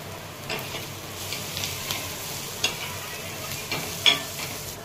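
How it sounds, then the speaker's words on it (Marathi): Onions frying and being stirred in a pan for a Maharashtrian tomato chutney, a faint steady sizzle under light scraping strokes of the spoon, with a few sharper clinks, no talk. "आता कांदा टाकून घेत, तर कांदा आपल्याला छान परतून घ्यायचा आहे."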